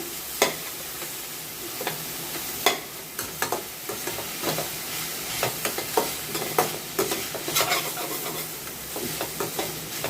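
Onions sautéing in a pan for white sorghum upma, a steady sizzle broken by frequent clacking scrapes of a spoon stirring against the pan, close and continuous.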